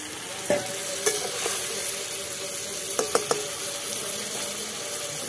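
Peas frying in a pan with a little water added, giving a steady close sizzle with a few sharp clinks of a utensil against the pan.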